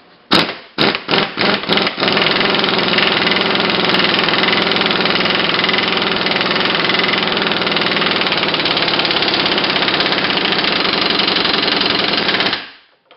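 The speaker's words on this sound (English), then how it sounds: "I'm just going to blast it on with the air gun" A pneumatic air impact gun tightens a rear driveshaft bolt on a Ford Super Duty truck, with a few short hammering bursts followed by a long, loud, continuous rattling run of about ten seconds before cutting off.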